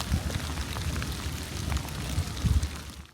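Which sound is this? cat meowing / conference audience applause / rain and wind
rain and wind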